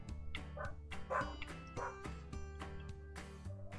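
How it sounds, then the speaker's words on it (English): A border collie in the Pet Clinic video game gives a run of short, regular barks and yips at close range, with musical game sounds underneath. "Sunny, he's a border collie."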